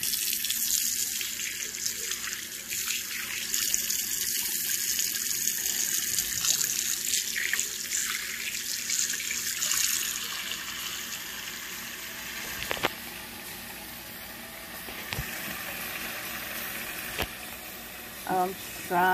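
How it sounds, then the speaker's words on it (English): Sink faucet running steadily as a dish is rinsed under it, a close rushing water hiss, with occasional clinks and knocks of the dish near the end. "I'm going to rinse it out."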